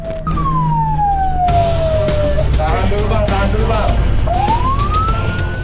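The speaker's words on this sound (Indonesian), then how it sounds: "Dengan nyaringnya raungan sirine mobil unit pemadam" A loud fire engine siren wails close by, sweeping down and then up again over heavy engine rumble, while someone speaks briefly in Indonesian.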